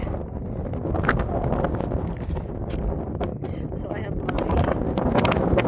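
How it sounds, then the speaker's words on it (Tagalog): Strong wind buffets the microphone in a continuous low roar in Goblin Valley, Utah, with a person speaking briefly underneath the gusts. "It's so mahangin. It's windy here."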